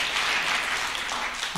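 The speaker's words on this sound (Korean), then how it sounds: "손뼉을 치려면 화끈하게 치소." An audience at a Korean overseas community convention applauds, a brief, dense wash of clapping from a crowd, fairly loud and continuous.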